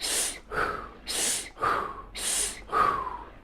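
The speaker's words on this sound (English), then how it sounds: "you're going to go to from that power nasal inhale to a mouth exhale, gear 4" Close breathing drill: three cycles of a strong nasal inhale followed by a longer, airy mouth exhale, in an even rhythm with no speech.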